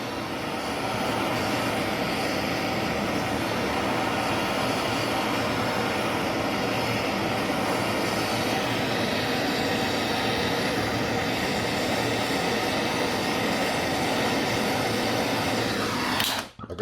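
A gas torch flame heating gold for refining roars in a steady, loud broadband rush that continues unchanged, then cuts off abruptly at the end, with no voices.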